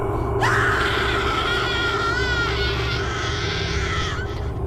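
A woman lets out a loud, piercing scream of fright in a horror story, a single sustained shriek that wavers in pitch and holds for several seconds over a steady background rumble.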